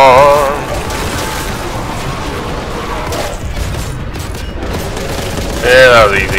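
In the video game Boltgun, a Grav-Cannon (Graviton) weapon fires, giving dense, loud bursts of booming blasts and crunching impacts amid game effects, with a brief whining tone at the start and end.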